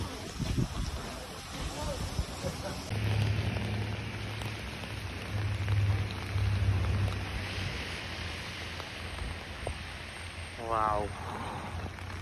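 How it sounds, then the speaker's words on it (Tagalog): Rain falls in Juneau, Alaska, a continuous soft patter heard outdoors under intermittent talk, with a low hum and a brief high chirp near the end. "Ay, maulan sa Alaska."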